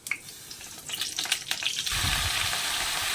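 Dry red chillies, radhuni, panch phoron and a bay leaf hit hot oil in a pan. A few clinks give way to a loud, steady sizzle that continues to the end.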